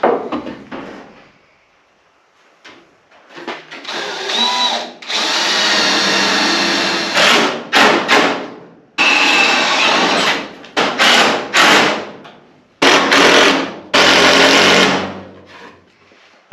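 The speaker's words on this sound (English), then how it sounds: "I'm going to drill right through this metal framework, and we're going to screw it right into that board right there." A power drill drives through metal framework into a board on a cheap hunting blind build, in several loud whining bursts of a few seconds each separated by short pauses, with the motor revving up and winding down.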